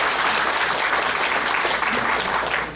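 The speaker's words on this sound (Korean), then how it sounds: "여기 계시는데 좀 박수 좀 쳐주십시오" Brief, dense audience applause at a ceremony for a mathematics education committee launch, loud and continuous from a full room of clapping hands, trailing off slightly at the end.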